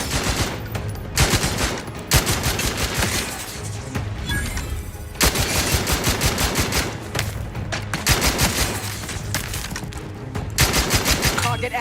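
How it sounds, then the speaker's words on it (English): Sustained gunfire from a firefight in the video game The Outer Worlds 2, dense volleys of shots and bursts rattling continuously for the whole stretch, loud and close, with brief heavier impacts and faint voices mixed in. "What are we being shot by?"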